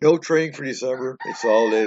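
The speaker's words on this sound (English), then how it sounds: "can hear my rooster in the background." A rooster crows in the background while a person speaks over it, the bird's call partly masked by the voice.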